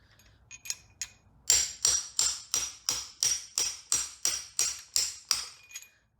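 Sharp metallic hammer blows on a socket extension fitted over a stripped lug nut on a Ford Focus ST ring out after a few light taps, about a dozen strikes in a steady, even rhythm, each with a brief bright ring.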